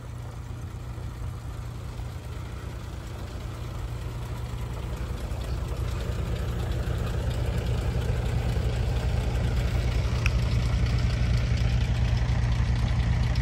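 Tractor engines, one normal and one double-engine setup, drive dewatering pumps at a construction site near the Amaravati High Court. Close by, they give a constant loud, low idling drone with a steady mechanical chug and no talking.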